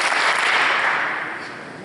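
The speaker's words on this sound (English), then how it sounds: "give me 3 claps, coach" Applause from the audience at a 2020 football awards ceremony, a dense wash of many hands clapping at once that fades gradually over a couple of seconds, with no voices.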